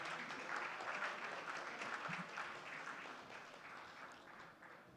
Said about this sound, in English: with a thunderous round of applause, please join me as we welcome to this stage